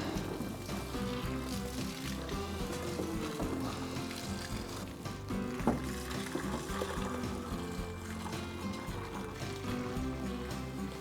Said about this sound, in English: Now we dump out all the soapy water